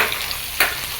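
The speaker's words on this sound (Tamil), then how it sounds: "இப்போ பெரிய வெங்காயம் ஒரு 2 வரமிளகாய் கிள்ளி போட்டு நல்லா வதக்கிட்டு" Big onions and dried red chillies sautéing in hot oil for cabbage sambar, a steady close sizzle and crackle with a brief stirring burst, no talking.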